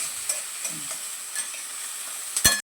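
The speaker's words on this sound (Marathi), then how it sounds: "आता हे लसूण जिरा आणि कांदा थोडा परतून घ्यायचा आहे" Garlic, cumin and onion sautéing in a pan, a steady hiss of frying with a few soft stirring scrapes and a sharper clatter just before it cuts off.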